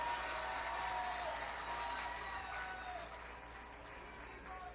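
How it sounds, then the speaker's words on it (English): An audience at a public gathering in Sangre Grande applauds, the clapping faint and distant as a steady wash that eases slightly toward the end. "We just give them a round of applause"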